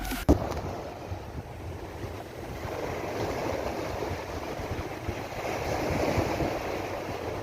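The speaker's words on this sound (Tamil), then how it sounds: "காற்று சரியான காற்று" Strong wind roars and buffets the microphone beside crashing surf at the seashore, steady and loud throughout after a brief knock at the start.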